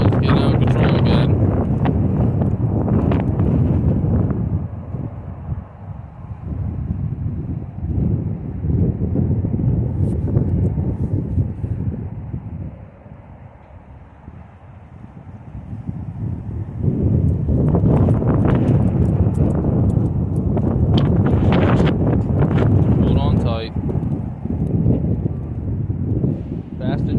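Strong gusts buffet the microphone beside slow railroad tracks, giving loud, rumbling wind noise that swells, eases off through the middle and then returns in heavy bursts.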